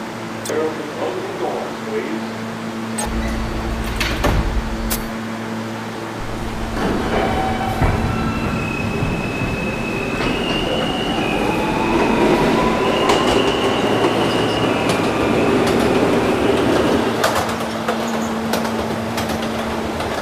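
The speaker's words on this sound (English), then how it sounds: "This is the 26th Street, St. Mark's Avenue bound G local train" A G local subway train rumbles between stations with clattering wheels and occasional squeals, loud and continuous, and an announcement voice is heard briefly.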